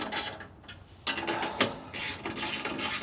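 A ratchet clicks in quick bursts while bolts are tightened on a Ford Ranger Raptor transfer case skid plate, close and mechanical, with short pauses between runs of clicks.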